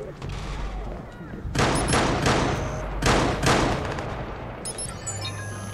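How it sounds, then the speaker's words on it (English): Gunfire bursts in Watch Dogs, with two loud, dense volleys of shots rising out of a steady rumble of game noise, followed by fainter electronic tones near the end. "Are they even shooting at me?"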